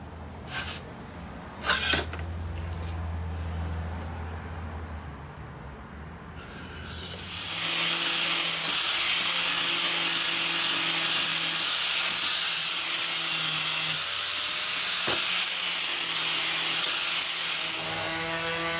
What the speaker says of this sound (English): Deburr everything.